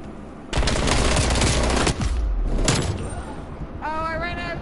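Sustained automatic gunfire in Call of Duty: Black Ops Cold War, loud rapid bursts with a short pause, followed by further shots and a brief voice at the end.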